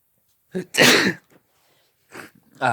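A single sharp human sneeze, close and loud, followed by brief breathy sounds and the start of speech.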